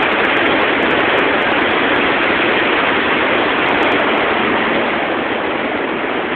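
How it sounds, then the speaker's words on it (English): Loud, steady roar of rushing runoff water on the Battenkill River in upstate New York after Hurricane Irene, heard from a bridge as continuous broadband noise with no voices. "That's the runoff of the Battenkill River."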